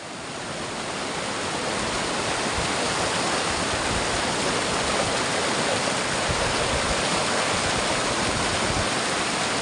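A mountain waterfall stream of snowmelt in the Doumel valley of Azad Kashmir roars steadily and loudly, a dense continuous rush of falling water with no break.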